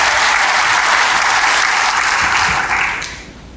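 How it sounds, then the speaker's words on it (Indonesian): A church congregation breaks into loud, dense applause during a sermon, sustained for about three seconds before quickly dying away. "Berikan tepuk tangan bagi Tuhan."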